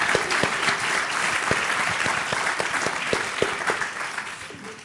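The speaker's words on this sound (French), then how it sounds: "Vous pouvez applaudir, hein." An audience at a French talk show stage clapping, a steady, moderately loud patter of many hands with a few sharper individual claps standing out, continuing evenly throughout.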